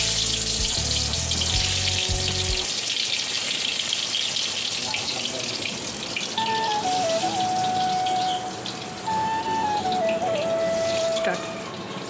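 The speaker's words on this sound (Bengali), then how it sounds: "তেলটা গরম হয়ে গেছে। তো পটলগুলো একটা একটা করে ছেড়ে দিচ্ছি।" Steady, loud sizzling of pieces frying in hot oil fills the clip, a constant crackling hiss with faint tonal sounds in the background.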